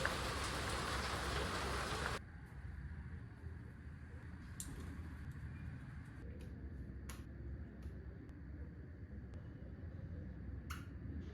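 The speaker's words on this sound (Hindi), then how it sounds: "बाहर बहुत तेज बारिश हो रही है भाई साहब" Heavy rain falling outdoors, a dense steady hiss that is loud at first, then drops to a softer continuous patter with occasional ticking drips, no voices.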